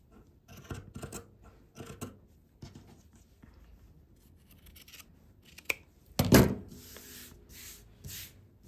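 Scissors snip along a fabric seam to trim a bias binding, a series of quiet close crisp cuts and rustles, with one louder sharper snap near the end.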